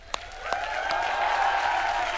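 Studio audience applauding Tabu and Parineeti Chopra on a comedy show stage, a steady wash of clapping with a few sharper claps at the start and tonal music underneath.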